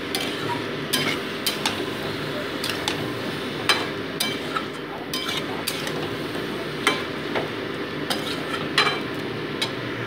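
Boiled Nutrela soya chunks sautéed in masala in a pan, with a steady soft sizzle and repeated sharp clinks and scrapes of a spoon stirring against the metal at an uneven pace.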